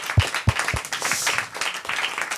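An audience at a talk bursts into a short round of applause, a few sharp claps swelling into brief mixed clapping.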